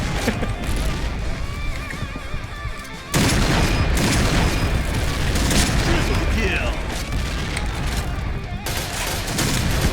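A grenade explodes in a shooter video game: a sudden loud, close blast that opens into a sustained heavy rumble with scattered gunfire, while a player talks over the action.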